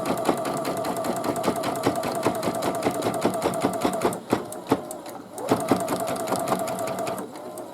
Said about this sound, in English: So it's just going to stitch around the edges of the fabric.